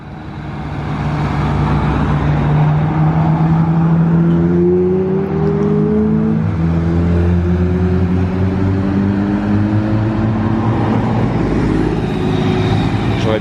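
Two Pagani hypercars rolling past on an airfield, engines droning and rising then easing off as they go by fairly close, with someone talking over the engine noise.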